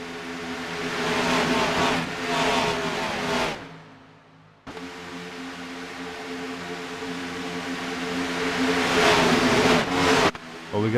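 Race cars at Talladega roaring past in a loud, sustained engine drone that swells and cuts off abruptly, then builds again as more cars fly by close.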